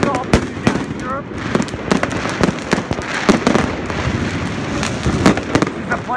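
New Year's fireworks go off in Prague, a dense run of loud sharp bangs and crackling bursts at close to middle distance, with shouting voices from the crowd mixed in.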